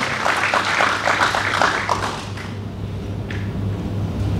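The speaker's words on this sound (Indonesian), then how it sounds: "Wong tepuk tangan buat Tuhan, bukan buat saya." A church congregation claps together during a worship service, a dense patter of hands that is loud at first and then thins into a quieter, scattered tail with a steady low hum beneath.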